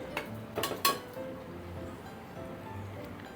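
Fried prawns stirred into masala in a pot: a few sharp clinks of a metal spoon against the pot near the start, then quiet scraping and faint background.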